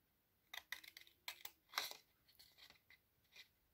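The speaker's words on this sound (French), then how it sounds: "Vous prenez vos ciseaux" Scissors cutting scrapbooking paper for a birthday box, a series of short crisp snips close by and fairly quiet, spaced irregularly with brief pauses between cuts.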